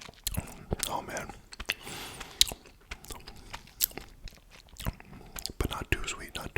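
Close, intimate chewing and biting of chewy gummy candy, with irregular wet smacks and soft crunches spread throughout, alongside quiet whispered speech.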